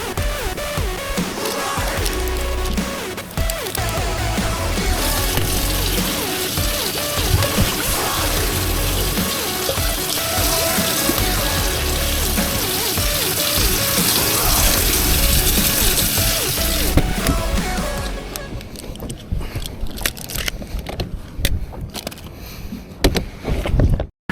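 Water pours and churns into the livewell of a bass fishing boat on Oneida Lake during a tournament, a loud, continuous rushing with mechanical rattling that thins out and turns choppier near the end.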